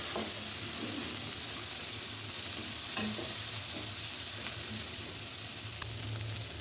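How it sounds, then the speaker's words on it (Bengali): Garlic paste, ginger paste, salt and turmeric frying in a pan with onion and green chili, a steady close sizzle broken by occasional scrapes and stirs of a spoon, with no talking. "এবার দিয়ে দিলাম রসুন বাটা, আদা বাটা, লবণ আর হলুদ দিয়ে মশলাটা আবার একটু ভেজে নিচ্ছি"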